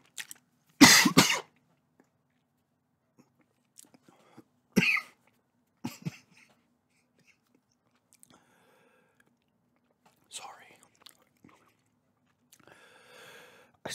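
A few sharp, close coughs after swallowing gum juice, one strong burst followed by smaller coughs and throat clearing, spaced apart in a quiet room with faint chewing sounds between them.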